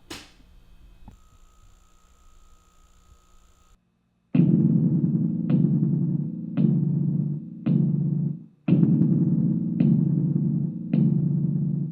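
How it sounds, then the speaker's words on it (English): An electric light buzzing: a faint steady hum with thin overtones gives way to loud, harsh buzzing bursts that cut in and out in a stuttering rhythm, close and alone. "Alright, this is the sound of the buzzing light."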